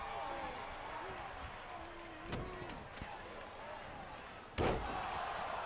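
A wrestler slamming an opponent into the mat during a wrestling match, heard as a sharp thud and then a louder heavy impact near the end, set against an arena crowd with voices talking throughout.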